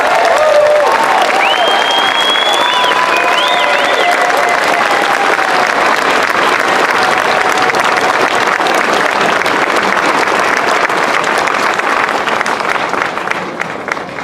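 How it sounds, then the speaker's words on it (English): A crowd at a March for Science rally bursts into loud, sustained applause mixed with cheering and a few whistles, keeping up a thick, even roar for over ten seconds before starting to fade. "Let's give Dr. Ringler one more round of applause"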